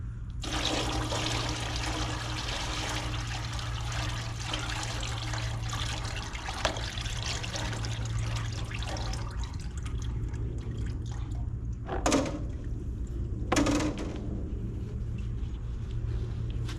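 Old black transmission fluid from a 1999 Lexus RX300 drains in a steady trickling pour into a container, with a low constant hum underneath and a couple of brief splashy bursts near the end.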